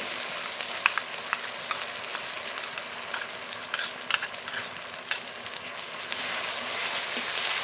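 Dried red chilli paste frying in a pot of duck curry gives a dense, constant sizzle close by, with scattered sharp crackles and pops across the whole stretch and nobody speaking.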